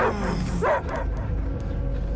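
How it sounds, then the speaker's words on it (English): A dog in the video game Guardians of the Galaxy barks and yips a few times at the start, then whimpers over a steady, loud game ambience with low rumble. "I hear only barking"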